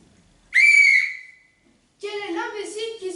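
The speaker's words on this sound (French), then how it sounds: "Quel est l'imbécile qui siffle aussi fort à 9h12?" Someone whistles one loud, high, sustained note that trails off, followed after a pause by a person talking, in a French stage comedy performance.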